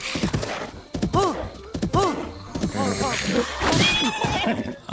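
A horse whinnies and snorts repeatedly while being tamed in Zelda: Breath of the Wild, loud nearby neighs in bursts over scuffling hooves and clattering movement.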